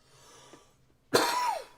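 A single loud, close cough bursts out after a stretch of quiet room noise, harsh and breathy, trailing off with a hoarse rasp, heard on its own during a live repair session on a Sony ICF-PRO80 radio.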